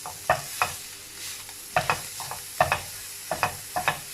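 Vegetables with chopped capsicum stir-fried over a medium-high flame, with sharp, regular spatula scrapes and clinks against the pan over a faint low sizzle and no talking.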